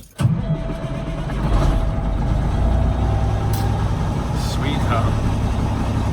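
A yellow truck's engine turns over and settles into a steady, close idle inside the cab in Idaho, a continuous low rumble running alone after the start.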